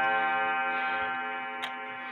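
A Junghans wall clock built in 1917 or 1918 sounds a loud, resonant strike whose ringing tone hangs and slowly fades, with ticking faintly present beneath it.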